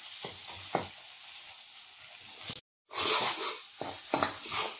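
Spice masala roasting in plenty of oil for a dry chicken dish, a steady hiss of frying with a few spoon scrapes against the pan, cut by a brief silent gap before the sizzle returns.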